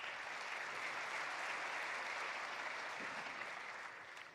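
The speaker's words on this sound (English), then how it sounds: "please join me in giving them a big round of applause" An audience at an opening ceremony for an annual meeting claps in sustained applause, a dense, even wash of hand claps that stays steady and fades slightly toward the end.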